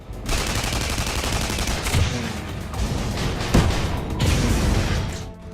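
Rapid bursts of gunfire from the video game Tribes, with continuous firing and a few heavier booms, loud and dense throughout.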